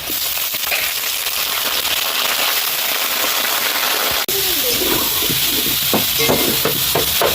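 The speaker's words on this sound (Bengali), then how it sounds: "আলুগুলো ভাজা হয়ে গেছে, পেঁয়াজও ভাজা হয়ে গেছে, একসঙ্গে ভাজবো।" Chicken frying in a pan with fried potatoes and onions, a loud, steady hiss and sizzle with stirring scrapes and bubbling pops close by, continuing without pause.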